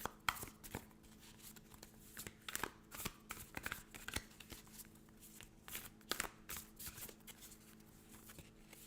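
Animal oracle cards are shuffled by hand and pulled, giving quiet, close riffling bursts and soft card snaps in an uneven rhythm, faint and without talk.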